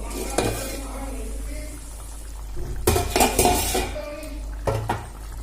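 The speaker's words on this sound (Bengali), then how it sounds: "দু মিনিট হয়ে গেছে আমি ঢাকনাটা খুলে দেখে নেব" A lid comes off a pot of chicken cooking Bengali style, with metallic clanks and clatter of the lid and utensils over a low bubbling sizzle from the pan.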